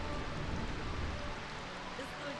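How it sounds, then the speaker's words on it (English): Loud rain in Final Fantasy IX game audio: a dense, steady hiss of downpour that holds throughout without pause. "Why is the rain so loud?"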